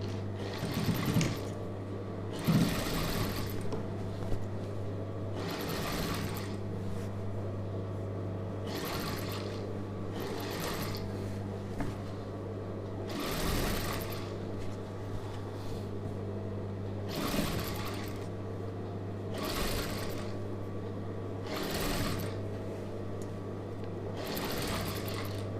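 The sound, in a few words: sewing machine stitching chudidhar neck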